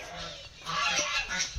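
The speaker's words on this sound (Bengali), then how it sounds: "রাজ হাঁস আছে, রাজ হাঁস ঝগড়া করছে।" Large domestic geese squabbling at a resort farm, honking loudly in harsh overlapping calls that swell midway through a short burst.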